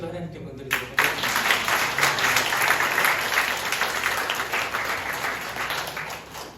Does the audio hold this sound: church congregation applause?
yes